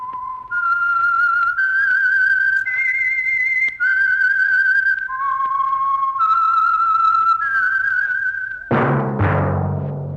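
A whistled theme tune from the radio show The Whistler, a clear, loud melody of sustained stepped notes with no talk, ending in a burst of orchestral music.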